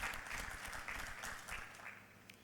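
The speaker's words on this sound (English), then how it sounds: "a big round of applause." Conference audience at a labour-law event's opening address breaks into a soft round of applause, steady and fairly distant, with no talking over it.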